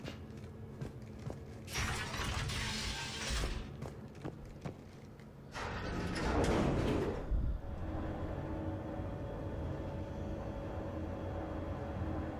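Elevator ride in the video game Mass Effect 3, with a whoosh and sliding-door rush followed by a sustained low mechanical hum and rumble that carries on steadily to the end, with a few scattered clicks and no talk.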